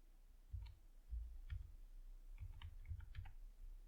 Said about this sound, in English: So here I'm going to type forward.